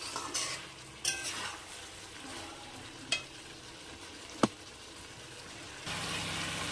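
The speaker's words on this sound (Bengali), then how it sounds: "যত সময় এই ঝোলটা থাকবে তত সময় কিন্তু ভালো করে কষিয়ে নিতে হবে যাতে এইটা একদমই টেনে যায়" Spicy chicken curry is stirred and sautéed in a pan as its gravy cooks down, with a continuous low sizzle, scattered spoon scrapes and a couple of sharp knocks against the pan.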